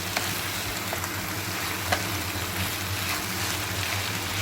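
Green chillies, salt and turmeric being stirred in a pan while cooking a vegetarian cabbage pulao, with a steady close sizzle and frying hiss and faint scraping of the spoon throughout.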